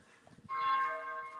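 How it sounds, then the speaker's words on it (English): A single church bell strikes once at St Albans Abbey and rings on with a sustained, gradually fading hum, fairly distant and moderately quiet. "The bell's tolled."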